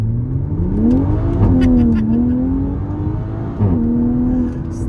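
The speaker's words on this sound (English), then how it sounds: "Let me do a nice acceleration here." Toyota GR Supra accelerating hard in sport mode, a loud engine climbing in pitch through two gear changes, heard from inside the cabin.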